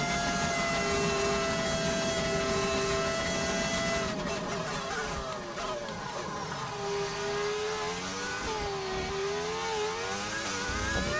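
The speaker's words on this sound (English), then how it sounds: "it's the V10 engine is what you're hearing." A Mercedes-powered V10 race car engine in the F1 25 racing game, a steady high whine with sweeping pitch shifts as the car upshifts and brakes through corners, loud and continuous with no talk over it.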